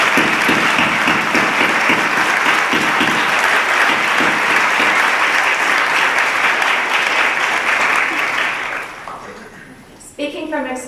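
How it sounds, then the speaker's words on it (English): Sustained applause from an awards ceremony audience, loud and dense for about nine seconds before tapering off, followed by a brief renewed burst of clapping near the end. "right now I'd like us to take a moment to applaud your families."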